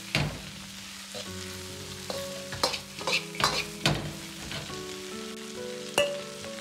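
Chicken and potato pieces are tossed in a wok with chili paste and hot pot base. Repeated close spatula scrapes and clatters ride over a continuous sizzle.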